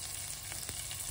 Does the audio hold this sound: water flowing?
no